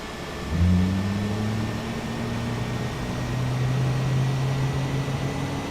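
Jet engine number one spooling up on an airliner at Washington Dulles, a steady low rising whine that starts suddenly and holds, droning under constant cabin air noise with no talk.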